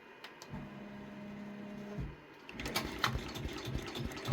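A Redline 1501 embroidery machine stitches an applique onto a child's shirt, a quiet motorized hum as the hoop pulls back, then rapid, busy stitching clatter close by.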